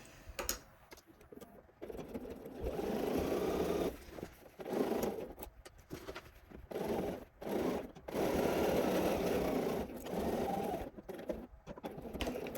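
A sewing machine runs in several bursts of rapid stitching along a garment side seam, each run lasting a second or two with brief pauses between, close and fairly loud.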